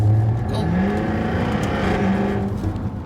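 Jaguar F-Type R sports car engine revving loudly and steadily up close, a deep continuous roar with rising and falling pitch and no talking.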